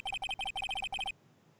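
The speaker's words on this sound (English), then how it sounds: "I heard a phone ring just now. One of those newfangled ringtones." A video game phone plays a bright electronic ringtone, sounding as quick paired chirps repeated in a rapid rhythm for about a second before stopping abruptly, with no one talking.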